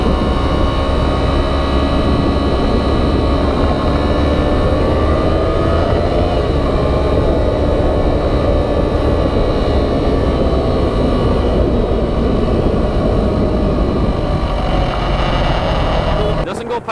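Engine of a first-generation Yamaha R3 motorcycle droning steadily while riding, with sustained loud broadband roar and wind noise throughout, briefly cutting off at the end.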